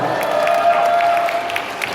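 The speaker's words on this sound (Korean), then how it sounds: "박수 주세요" An event crowd claps during a lucky-draw prize giveaway, a moderate wash of applause with faint crowd murmur and a steady held tone running underneath.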